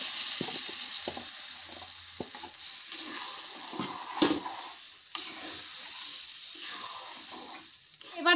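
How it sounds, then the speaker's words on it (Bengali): Ground lentil paste fries in a pan under steady low sizzling while a spatula scrapes and stirs it in irregular strokes, with a few sharper knocks against the pan. "এবার নাড়তে থাকতে হবে"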